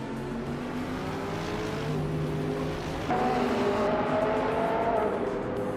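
A 2011 BMW Z4 race car and its field launch from the grid at Termas de Rio Hondo in a racing game, engines roaring loud and steady, pitch rising as they pull away with a sharper surge partway through.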